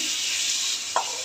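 Chicken pieces hit hot oil in a pan, a steady bright sizzle throughout with a single sharp clink of a utensil near the end, close and without speech.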